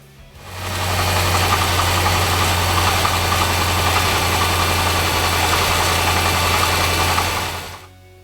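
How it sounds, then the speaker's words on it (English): A 2006 Dodge Magnum SRT8 engine with a misfire runs steadily with a low, rough hum and a faint knocking rattle, loud and close, fading in and out at the edges. "the engine at the end of everything and just recently has started making this awful noise"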